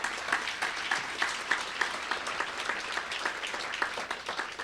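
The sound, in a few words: applause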